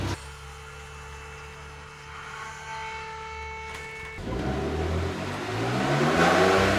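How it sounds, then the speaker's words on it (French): A Porsche 991 Phase 2 idles steadily, then revs up and pulls away, its turbocharged engine's roar rising and climbing through the gears as it leaves. "ce que vous entendez partir, c'est un moteur turbo, une 991 phase 2"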